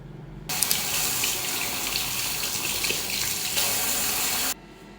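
A bathroom tap runs steadily into a sink for face washing and teeth brushing, a loud close gushing that starts abruptly, shifts slightly midway and cuts off near the end.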